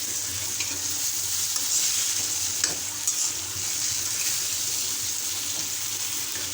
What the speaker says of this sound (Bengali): এটা প্রায় বেগুনটা ভাজি হয়ে এসেছে। তখন আমরা একটু লাড়াচাড়া দিয়ে নেব।